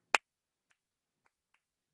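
One loud, crisp hand clap from a teacher close by, followed by a few very faint taps and near silence.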